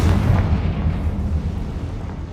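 Confringo blasting spell in the Hogwarts Legacy video game, a loud, close explosive boom with a heavy low rumble that decays over a couple of seconds.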